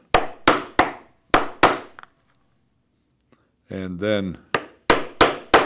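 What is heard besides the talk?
hammering a punch to make holes for bike handlebar bag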